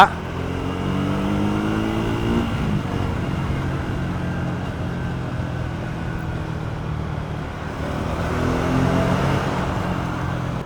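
A Triumph 350cc motorcycle rides through city streets, its engine a steady low drone that rises and falls with throttle changes, with wind and road noise around it.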